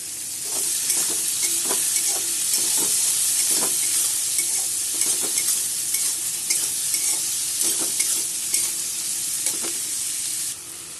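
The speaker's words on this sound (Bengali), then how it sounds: "পেঁয়াজ আমার মোটামুটি ভাজা হয়ে গেছে" Chopped onions with a pinch of salt fry in a pan, a loud continuous sizzle punctuated by regular scraping knocks of a spatula stirring, steady until it drops off just before the end.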